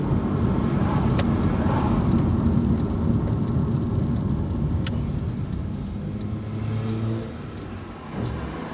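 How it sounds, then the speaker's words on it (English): A young rider's 50cc moped engine revs close by outdoors, producing a continuous buzzing drone that eases and swells slightly toward the end. "Young lad behind me revving his little 50cc engine on his moped."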